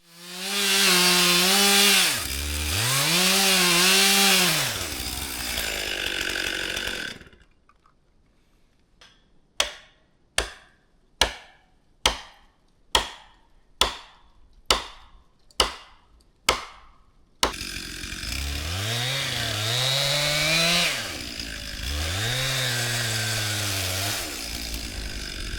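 Chainsaw cutting trees while clearing a woodlot road, loud sustained revving with rising and falling pitch, then a quiet stretch of about ten sharp, evenly spaced knocks, before the saw roars back in for another long cut.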